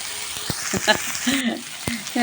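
Tomatoes cook in a generous amount of oil, giving a short burst of close frying sizzle with soft stirring, and a voice is faintly audible underneath.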